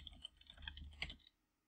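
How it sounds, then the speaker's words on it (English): Quick run of keystrokes on a computer keyboard, soft close clicks in an irregular burst that stops abruptly, then near silence; no one speaks. "Typing in the wrong window."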